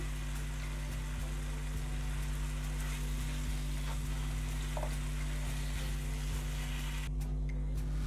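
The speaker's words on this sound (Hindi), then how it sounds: "मटन हमारा अच्छे से बॉईल हो चुका हुआ है, बस अब इसकी भुनाई होगी।" Boiled mutton pieces pan-roasting for a restaurant-style mutton katakat, giving a steady, even frying sizzle throughout with a low hum underneath and a brief scrape near the end.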